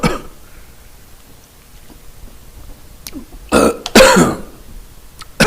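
A faint rasp near the start, then after a quiet stretch a burst of harsh, close throat clearing and coughing, two strong rough blasts followed by a short catch.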